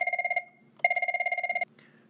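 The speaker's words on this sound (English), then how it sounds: "Then make your telephone ring." A desk telephone rings near and loud in two bursts of rapid electronic trills, with a short gap between them and a brief pause before the second burst, while a Sennheiser HSL 10 handset lifter is being trained to its ringtone.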